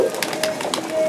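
Pigeons in a loft coo softly at feeding time, a low murmur beneath faint background noise and brief clicking sounds, with someone talking nearby.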